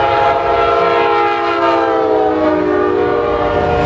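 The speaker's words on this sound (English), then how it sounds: "we wanted to demonstrate to you just how quiet these locomotives are" A locomotive-hauled train rolls past close and loud, a steady rumble with a sustained horn-like tone running throughout.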